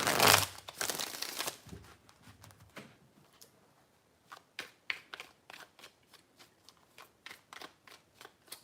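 Tarot cards are shuffled by hand: a loud riffling burst at the start, then a run of soft, quick card taps and slaps in an uneven rhythm, close and without talk.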